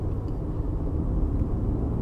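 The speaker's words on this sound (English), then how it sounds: "I have put the car into eco mode and we're driving it like normal" A 2020 Toyota RAV4 in eco mode cruises under light throttle, giving a steady, dense low road and engine rumble heard from inside the cabin with no voices.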